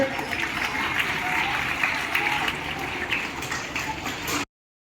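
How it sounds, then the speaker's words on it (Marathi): An audience at a school felicitation ceremony claps in dense, steady applause for about four and a half seconds before it cuts off abruptly. "त्याबद्दल सर्वांनी जवळ टाळ्या वाजवायचे"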